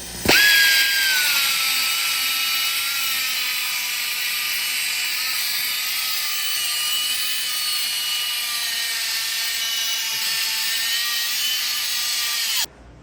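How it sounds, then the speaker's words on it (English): A power grinder cuts off metal while building truck motor mounts for an LS engine swap into a Ford Ranger, one loud continuous whine that starts abruptly, holds steady, and cuts off near the end. "Let's grind it off."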